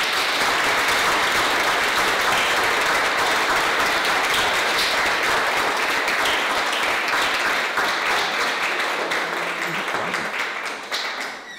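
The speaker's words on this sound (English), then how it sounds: "let's give it a round of applause" An audience applauds loudly and steadily after a lecture by a judge, a dense wash of clapping that holds for about ten seconds before beginning to thin out at the end.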